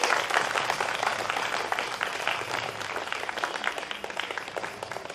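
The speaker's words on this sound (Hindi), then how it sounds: "आपकी तालियां रुकनी नहीं चाहिए इन विभूतियों के लिए" Continuous applause from a seated audience at a Ram Katha religious gathering in Pithoragarh, dense even clapping at moderate distance without speech.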